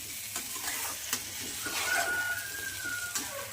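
Spices fry with eggplant and potato for a katla fish curry, a soft sizzle broken by intermittent stirring scrapes in the pan, quiet and close.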